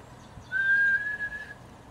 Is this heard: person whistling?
yes